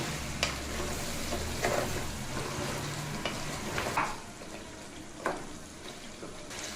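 Spiced beef is stirred in a frying pan, with a spatula scraping the pan at irregular strokes over a constant low sizzle. It sounds close but fairly quiet, with no voices.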